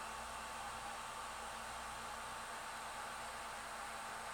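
A hot-air tool blows a steady, faint, even hiss while heating solder paste on a cell phone circuit board during repair. The tone stays constant throughout, with no talking.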